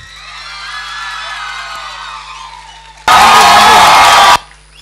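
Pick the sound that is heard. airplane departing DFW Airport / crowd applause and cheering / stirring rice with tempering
crowd applause and cheering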